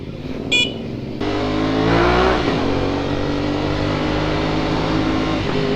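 A Veloce 500 motorcycle is ridden at night, its engine note jumping up abruptly and then holding a strong, steady drone with shifting revs, close and loud, with no talking.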